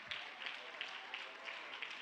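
A church congregation applauds, a faint and steady wash of clapping with a soft rhythmic pulse heard from a distance.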